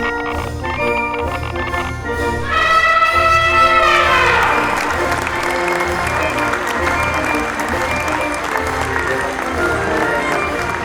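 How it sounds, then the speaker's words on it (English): Applause and general crowd noise from an audience swell in after about two seconds over a sustained musical tone, then carry on loudly and steadily to the end. "just general crowd noise"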